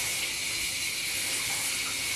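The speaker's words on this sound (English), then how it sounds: "Just kind of rubbing your scalp with the water, nice warm water." Warm water running steadily while thick, long hair is soaked and the scalp rubbed, a constant close hiss with no pauses or speech.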